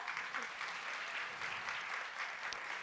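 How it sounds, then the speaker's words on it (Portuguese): An audience gives a welcoming round of applause for a guest at a talk, soft, steady clapping from many hands heard at a distance. "uma salva de palmas também para a Sara"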